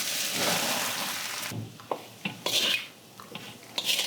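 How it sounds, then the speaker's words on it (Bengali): Ground chana dal frying in ghee in a wok over a medium-low flame, a steady close sizzle at first, then a string of distinct spatula scrapes and knocks against the metal as it is stirred continuously. "ধীরে ধীরে মিডিয়াম লো ফ্লেমে ওটাকে কন্টিনিউয়াসলি নেড়ে নেড়ে ভাজতে হবে"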